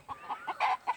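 Domestic desi rooster and hens give a quick run of about five short, close clucks in rhythmic bursts over one second, with no talking.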